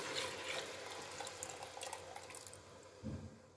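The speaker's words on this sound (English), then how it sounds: "So we are adding in the coconut juice now." Coconut juice pours into a pot while coconut rice is being made, a soft steady liquid trickle and dribble running for a few seconds with a brief fuller splash near the end, quiet and with no voices.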